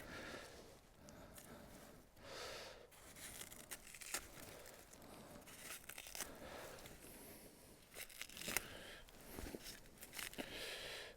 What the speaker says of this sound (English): now I'm just going to peel back all of this here.